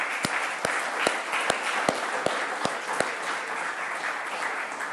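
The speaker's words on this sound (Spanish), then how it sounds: "Denle un aplauso a Dios" A church congregation applauds God in a steady wash of clapping, with one person nearby clapping in a regular, evenly spaced beat through the first three seconds before the sound settles into a general patter.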